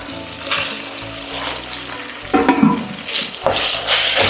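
Tomatoes sautéing in a hot pan, a steady sizzle with bursts of stirring and scraping that grow louder toward the end, with no voices.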